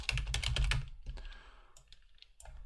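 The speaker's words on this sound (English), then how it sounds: "as well as just typing the text in here" Rapid keystrokes clatter on a computer keyboard as text is entered, a quick burst of clicks followed by sparser taps, close and fairly quiet.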